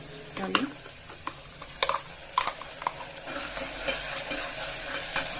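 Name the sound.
ground masala added to frying peas in a pan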